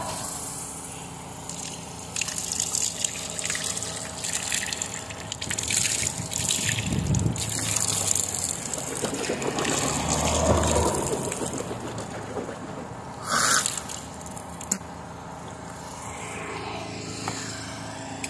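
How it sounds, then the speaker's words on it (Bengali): Water pours and splashes steadily from a handwashing tank at an outdoor worksite in Kuwait, a continuous close gush and trickle with brief swells as hands are rinsed, no talking. "চলো হাত ধোয়া যাক। এই যে ট্যাঙ্ক হাত ধোয়ার জন্য।"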